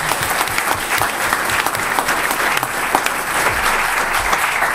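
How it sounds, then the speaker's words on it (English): A school board meeting audience gives loud, sustained applause for middle school leaders, a thick continuous patter of many hands with no talking over it. "so they deserve a huge applause"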